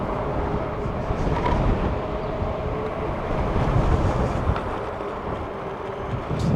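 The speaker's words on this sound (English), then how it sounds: "This wind is incredibly crazy" Strong wind roars and buffets steadily throughout while riding a Fiido T1 Pro electric bike outdoors, loud and unbroken, with no talking.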